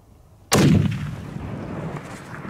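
A single loud rifle shot fired at a bull elk during a Colorado elk hunt, a sharp close crack that rolls into a long, fading echo across open country.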